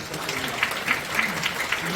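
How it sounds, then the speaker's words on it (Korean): An audience at a People Power Party Christian lawmakers' National Assembly prayer breakfast applauds, many hands clapping in a steady, fairly close burst. "큰 박수 부탁드립니다"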